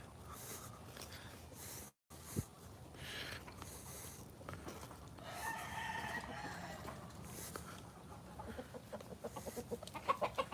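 Chickens outdoors in a garden cluck and call softly at a distance over steady background noise and rustling, with a faint crowing-like call in the middle and quick pecking or tapping sounds toward the end.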